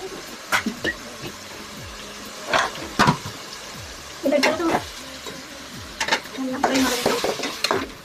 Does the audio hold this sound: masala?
yes